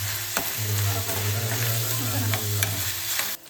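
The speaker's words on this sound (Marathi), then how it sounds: "लाल जायपर्यंत कांदा भाजून घ्यायचं बघता" Sliced onion roasts in a pan in a village kitchen, giving a steady close sizzle broken by occasional scraping stirs and clacks, with no talking.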